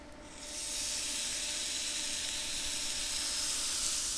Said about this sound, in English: Tarik jumped on the induction burner, dropped in a bunch of tater tots that are already cooked